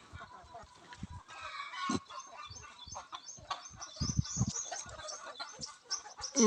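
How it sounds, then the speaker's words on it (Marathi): Desi Indian native hens cluck in short, irregular bursts close by, with a few louder calls and a rooster-like cry mixed in, and no speech over them. "देशी मुर्गी किंवा देशी कोंबडी म्हणून मित्रांनो ह्या पूर्ण देशी कोंबड्या आहेत"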